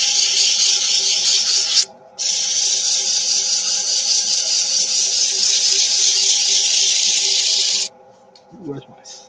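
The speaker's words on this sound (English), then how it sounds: "let's get some sanding going" Steady abrasive rasping of sandpaper against spinning wood, loud and continuous, with a brief pause near two seconds and a quieter tail of handling noises at the end.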